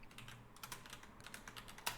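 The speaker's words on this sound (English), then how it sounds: "typing." Quiet rapid typing on a computer keyboard, a soft irregular patter of key clicks over faint background hum, with one slightly louder keystroke near the end.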